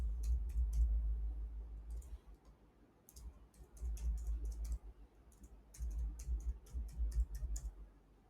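Fingers tap out short bursts of keystrokes on a computer keyboard, crisp clicks in clusters separated by pauses, over a low background rumble.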